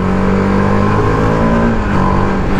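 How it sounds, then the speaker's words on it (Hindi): A TVS Apache RR 310 BS6 sport motorcycle running in track mode gives a loud, close, continuous engine drone with a steady buzzing tone and no pauses. "बाइक जो आवाज़ प्रोड्यूस करती है आपको डेफिनेटली ऐसा लगेगा कि आप कोई तो सुपर बाइक चला रहे हो"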